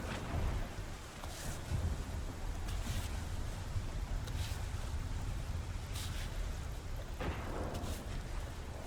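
Rain falling in the video game Cairn, a steady hiss of rainfall with occasional brighter bursts layered over a low rumbling background.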